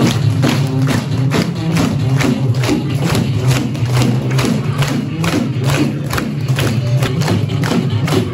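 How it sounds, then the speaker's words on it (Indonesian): Schoolchildren at an elementary school storytelling event clap together in a loud, rapid, sustained burst of applause mixed with excited cheering voices throughout. "Boleh minta tepuk tangannya?"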